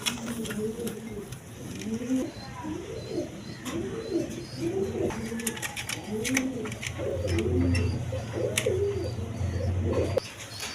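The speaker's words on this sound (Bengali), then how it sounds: "Tiger colour, Andalusian colour quality সম্পন্ন হাউস ফিজন কবুতর নিতে পারবেন।" House pigeons of tiger and Andalusian colour coo in a loft, a run of repeated, rolling low coos close by over a faint background hum, with a few light chirps mixed in.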